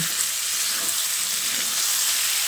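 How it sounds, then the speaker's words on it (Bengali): Chicken sizzles in a pan with onion, ginger and garlic over a high gas flame, giving a loud, steady crackling hiss close up that continues without a break. "চিকেনটা দিয়ে পেঁয়াজ আদা রসুনের সঙ্গে আরও কিছুক্ষণ সময় ধরে ভেজে নেব"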